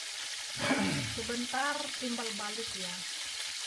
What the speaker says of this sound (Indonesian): Von allen Seiten anbraten